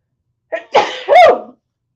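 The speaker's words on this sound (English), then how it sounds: "A little sneeze before morning time." A single close, loud sneeze with a short sharp intake and burst, in otherwise silent surroundings.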